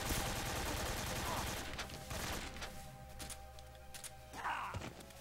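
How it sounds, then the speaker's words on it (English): AK rifle fire in Metal Gear Solid 3, with dense bursts of game gunfire and thuds in the opening seconds, then scattered shots and impacts. "Time to use the AK."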